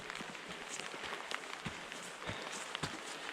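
Rain patters steadily on a jacket hood during a hike up Moylussa, Co Clare, a dense close hiss with scattered sharper drops and soft footstep-like thumps, fairly faint.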